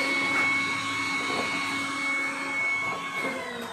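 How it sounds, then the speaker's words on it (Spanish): A household vacuum cleaner runs steadily at close range, a constant whining drone with a bright high tone that holds unbroken throughout, with no one speaking. "Escucháis la aspiradora"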